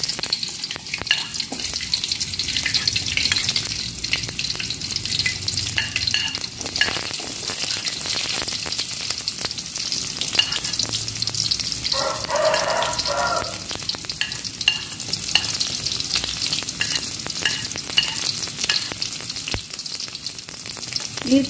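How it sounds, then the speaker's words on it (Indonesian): Minced garlic and shallots stir-fry in hot oil for a tempeh, bean sprout and petai dish: a steady, close sizzle with intermittent stirring scrapes from the spatula throughout, and no talking. "Sekarang aku numis bawang putih dan bawang merah"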